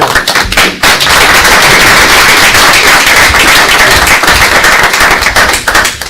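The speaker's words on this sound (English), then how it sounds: "Let's share a great round of applause for Chuck as our chairman." Meeting attendees at a board of governors meeting applaud their new chairman with dense, loud, sustained clapping from a roomful of hands, continuing unbroken for several seconds with no talking.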